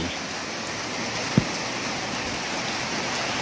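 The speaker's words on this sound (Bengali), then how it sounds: "এত পরিমাণ বৃষ্টি হচ্ছে ধারণার অতীত।" Heavy rain pours steadily as a dense, continuous hiss, with one brief thump partway through.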